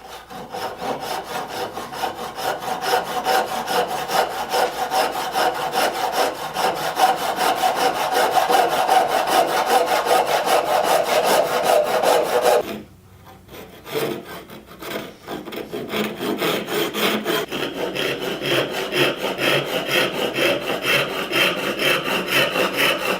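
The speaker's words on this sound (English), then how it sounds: "let's go ahead and cut it off of the scrap pieces here" Hand saw cutting through wood to free a chisel handle from scrap pieces, a steady loud rhythmic rasp of back-and-forth strokes that pauses briefly midway, then resumes with continuous close sawing.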